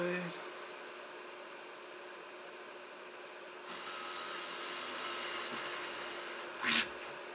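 A drill bores bolt holes into a homemade 12-inch electronic drum tom pad, starting after a quiet stretch as a loud, steady high whine that runs for a few seconds before easing off, close by.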